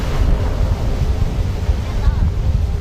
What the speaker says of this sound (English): 5 people were injured by the strong waves, falling into the surf.